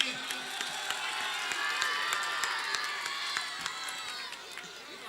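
Audience clapping at a mushaira in Suratganj, steady sustained applause from a large crowd with sharp individual claps standing out, moderately loud throughout.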